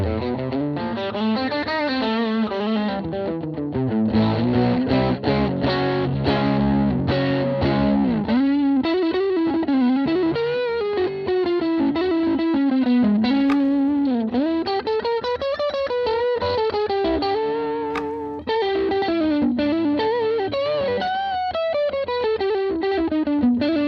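Electric guitar plays with its pickup height just raised, a sustained run of distorted, effects-laden notes and chords with a chorus-like shimmer, loud and continuous for over twenty seconds with no talking.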